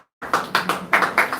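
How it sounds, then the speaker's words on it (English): A handful of people clap briefly in a small church gathering, a short scattered burst of claps starting after a moment of silence and trailing off within about a second. "Give her a round of applause."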